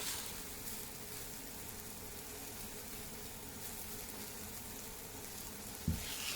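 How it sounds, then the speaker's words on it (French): Rice grains coated in olive oil fry in a pan over medium-low heat for paella, giving a faint, steady sizzle with one brief clatter near the end and no talk. "Je viens imprégner mes grains de riz d'huile d'olive"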